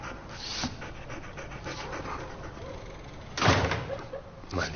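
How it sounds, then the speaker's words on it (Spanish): A noisy door in the Todo Por Mi Hija video game gives one loud burst partway through, then a shorter second one, over a steady busy background with breathy panting-like noise. "¿Por qué esta puerta hace tanto ruido?"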